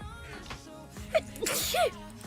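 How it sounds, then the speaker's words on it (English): A couple of quick sneezes, one sharper and one longer, sound close and moderately loud over quiet background noise and faint game-like sounds. "2 seconds later, I start sneezing."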